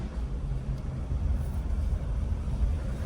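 A Mitsuoka Yuga car driving along, its steady low road and engine rumble droning continuously from inside the cabin, with no talk over it.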